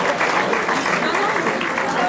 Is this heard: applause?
yes